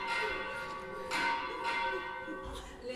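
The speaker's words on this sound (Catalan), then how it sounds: "Les campanes indiquen el final de la missa." Church bells ring at the end of mass in a steady, overlapping peal with a sustained metallic hum. They sound moderately distant and have no speech over them.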